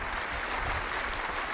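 An audience claps continuously for two children, a dense, even wash of applause from a crowd at a yoga gathering, with no break and no voices over it.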